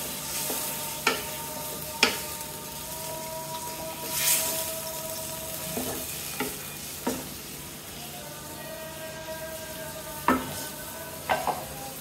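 Pabda fish curry cooking in a pan with green chillies, a low steady simmer-sizzle broken by a handful of sharp utensil knocks against the pan spread across the stretch, with no talking.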